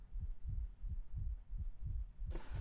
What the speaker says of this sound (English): Like a heartbeat or something.